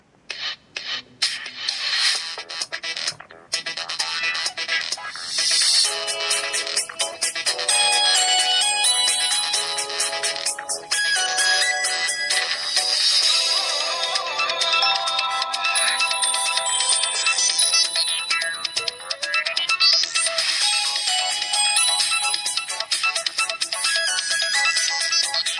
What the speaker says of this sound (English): At the music, there is an MP3 file, a sound from Samsung.